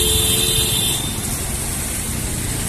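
Car horns honk in rainy Cebu City traffic, a short tonal toot over the first second above a steady roadway rumble of passing vehicles, loud and close.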